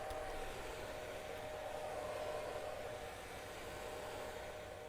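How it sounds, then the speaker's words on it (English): An electric hand air dryer in a cafe restroom blows continuously, a steady broadband rushing roar with a faint tonal whine, close and constant throughout with no voice. "I place my hands underneath the air dryer and it springs to life"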